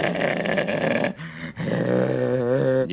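A voice imitates a pack of five or six growling street dogs, with rough sustained snarls, a brief pause and then a longer, wavering growl, loud and close.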